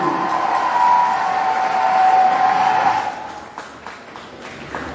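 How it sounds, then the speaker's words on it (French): Crowd applause with some cheering at a school quiz final, a steady wash of clapping that holds for about three seconds before thinning out. "Sous vos applaudissements, chers amis"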